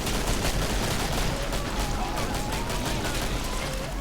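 Dense gunfire from the video game Killing Floor rattles in rapid bursts of shots at close range, with a steady low rumble running underneath.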